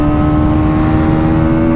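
A Bajaj Pulsar NS200 motorcycle runs at high revs with a steady, loud engine drone and wind rush in this brief burst.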